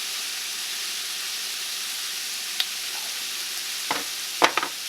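Collard greens with fresh garlic, salt and black pepper are stirred with a spoon in a pot over a steady sizzling hiss, with a few sharp scraping knocks near the end.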